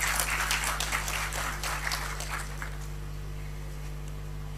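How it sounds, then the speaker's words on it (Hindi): Audience applause for someone speaker at a Noida community foundation day event: a dense patter of many clapping hands that fades out over a few seconds, leaving a steady low hum. "जोरदार तालियां शोमा जी के लिए।"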